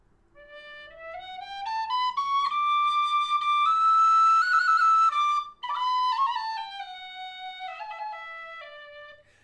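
Inexpensive oak tin whistle in high D, playing a slow run of clear, pure notes that climb and then descend, close and alone, with a brief break in the middle.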